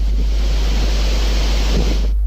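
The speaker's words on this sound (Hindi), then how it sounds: "उफनता हुआ पानी तापी नदी का है, जिसे हथनूर बांध से छोड़ा जा रहा है।" Surging Tapi river floodwater released through the opened gates of the Hathnur dam after heavy rain, a loud, continuous, wind-buffeted roar of rushing water with no talk.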